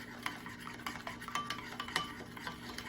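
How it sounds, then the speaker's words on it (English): Korean sauce being stirred or whisked briskly in a bowl, a run of quick scraping, clinking strokes at a steady rhythm, close and fairly quiet with no talk. "stir this robustly, and this will form the basis of our Korean sauce"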